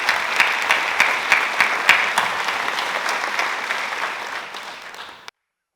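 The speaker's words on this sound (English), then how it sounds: "Please join me in a round of applause for all our wonderful sponsors." Audience applauding sponsors at a public panel event in Santa Barbara, a full roomful of steady clapping with a few sharper hand claps early on, gradually thinning and fading before cutting off.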